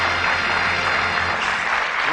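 Warm applause from a studio audience on the 1982 Bullseye game show as two departing contestants leave, a steady dense wash of clapping that holds at full strength for about two seconds, with a low hum underneath and no voices.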